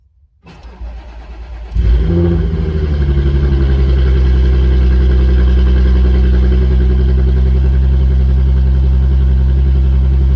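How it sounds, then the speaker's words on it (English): An Audi B8 S4 engine cranks briefly, catches and settles into a loud, steady, low idle that continues without pause, heard up close. "I'm gonna start up the car to make sure that it doesn't give me any warnings"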